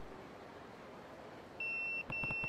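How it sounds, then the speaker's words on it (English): An in-game pager in Yakuza 0 gives a clear, steady electronic beep, then a short gap and a second beep with a few soft pulses, over quiet background hiss. "My page is beeping."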